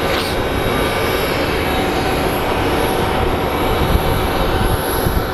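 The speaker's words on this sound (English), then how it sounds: "looks like we have FedEx 904 coming our way. It's a MD-11." A FedEx McDonnell Douglas MD-11 passing near Phoenix Sky Harbor International Airport on a hot day, a loud, continuous engine roar and rumble that holds steady throughout with no talking.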